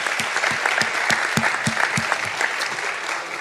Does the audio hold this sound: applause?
yes